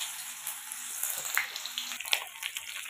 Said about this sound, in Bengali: প্রথমে আমি এই পেঁয়াজগুলো দিয়ে দেবো।